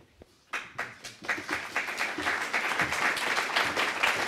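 Audience applause for a married couple at a talk, starting with a few separate claps that quickly build into steady, moderately loud clapping from a crowd.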